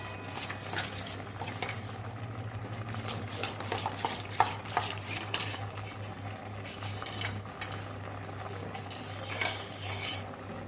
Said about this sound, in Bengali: এই 2 চামচ চাল গুঁড়ো নিয়েছি, 2 চামচ নিয়েছি, জল দিয়ে গুলে নেব